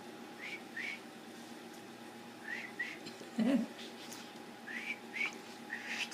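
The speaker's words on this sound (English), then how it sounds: "Santa whistled for the reindeer." A person whistles short, high chirping two-note calls in repeated bursts, fairly faint and close, with a brief low voice-like sound in the middle.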